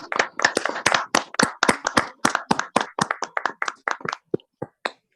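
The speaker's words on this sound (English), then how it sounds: "Please give yourself a very big applause" A small audience of distributors, leaders and employees at a product launch event claps in a series of separate, distinct hand claps that thin out toward the end, loud and close with no talking over them.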